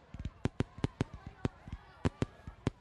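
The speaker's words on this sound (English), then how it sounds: "the green and blue fireworks are a nice contrast" Fireworks pop and crackle in a city New Year's celebration, a rapid irregular string of sharp bursts at moderate distance with some louder cracks among softer ones.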